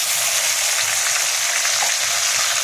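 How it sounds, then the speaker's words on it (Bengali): Garlic frying in a pan, a steady loud dense sizzle that holds evenly throughout, close up with no talk. "এবারে রসুনটা একটু ভাজা ভাজা হোক।"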